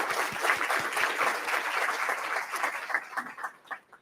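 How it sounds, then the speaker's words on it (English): An audience claps for early childhood educators at a public forum on childcare, with dense sustained applause that thins into scattered final claps toward the end. "So I think we should give a round of applause to all of our early childhood educators."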